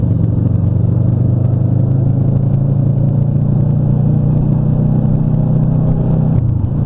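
A motorcycle engine drones in traffic, a loud, steady close-up rumble with a low hum that holds evenly before dropping off near the end.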